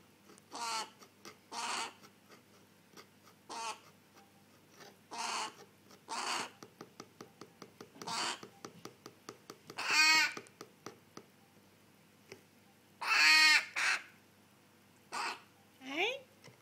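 A baby crow gives short, harsh caws in repeated bursts, some louder and longer than others, close by with quiet gaps between them.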